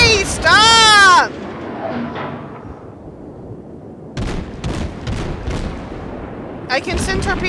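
Ship guns firing in World of Warships aboard the Sampson destroyer, loud booming shots and rumbling blasts with a swept whistling tone at first, then gaps of quieter battle noise.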